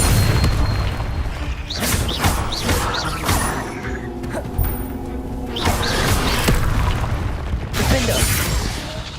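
Repeated blasting spell explosions in the Hogwarts Legacy video game, heavy booming bursts with crackling debris and shattering, one after another over busy combat noise.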